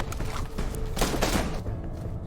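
Gunfire rings out in an action film scene, a dense continuous burst mixed with music and mechanical clatter, loud and sustained throughout.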